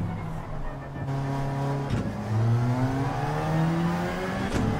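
Race car engine in the Gran Turismo 7 racing game, Eiger Nordwand circuit, pulls hard out of a corner with rising harmonic revs, a brief shift dip near the middle, then a strong sustained climb.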